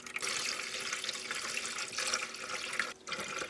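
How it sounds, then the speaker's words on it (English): Water pours steadily into a hydroponic garden container indoors, a continuous close splashing and gurgling stream with a brief dip near the end. "Okay, so I'm going to put the water in here."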